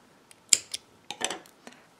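Scissors snip crochet yarn up close: a sharp metallic snap followed by a few lighter clicks and blade rubs, brief and quiet in an otherwise still room.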